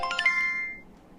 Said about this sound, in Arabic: موبايل، رنين